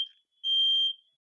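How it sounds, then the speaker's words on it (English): A smoke alarm gives a short click followed by a single sharp, high-pitched electronic chirp lasting about half a second, then silence. "that's my smoke alarm."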